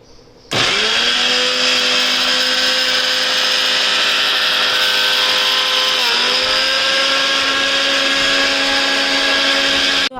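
A kitchen blender whirs loudly and steadily, close by, while blending apples into fruit juice, its motor pitch dipping briefly partway through before holding steady until it stops.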